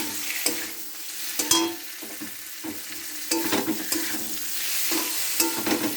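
Potatoes fry with spice masala in a pan for a rohu fish curry. A steady close sizzle runs throughout, broken by repeated scraping strokes of a spatula against the pan.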